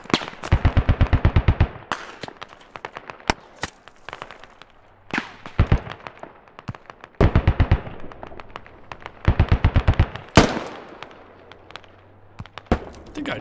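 Rapid automatic machine gun fire in the Squad video game, several loud repeated bursts with scattered single gunshots between them in a chaotic battle.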